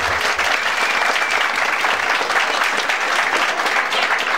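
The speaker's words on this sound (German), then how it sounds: "kräftig in die Hände klatschen." A carnival audience claps hard in unison on command, a dense, loud, continuous burst of hand-clapping lasting a few seconds with no talk over it.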